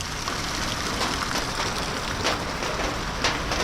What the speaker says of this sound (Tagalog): lumpas na naman ng ulan